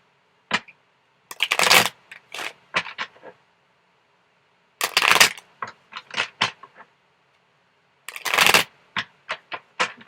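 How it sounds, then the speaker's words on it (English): Tarot cards being shuffled in three quick bursts of riffling and snapping, each followed by a few sharp taps, close up with quiet pauses between. "So I'm just going to do a few shuffles here."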